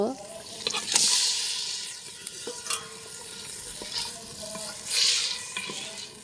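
Meat dropped into fried spice paste on a new clay stove, sizzling steadily with scraping stirs and a couple of louder bursts, close by; a voice speaks faintly underneath.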